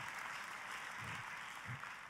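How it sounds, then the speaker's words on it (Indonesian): Church congregation applauds in a continuous, even wash of clapping, faint and distant in the room, with a couple of low thumps near the end. "tepuk tangannya boleh yang paling meriah"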